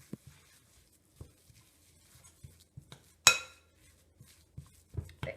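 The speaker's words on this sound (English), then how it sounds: "Give it a good stir. While it's still warm." A spoon clinks against a cup now and then while stirring a warm turmeric latte, with soft scattered taps and one sharper, brighter clink midway, all fairly quiet and close.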